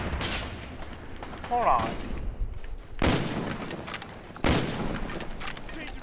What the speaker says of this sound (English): Okay, I just shot like 3 bullets at once. My sniper turned like full auto.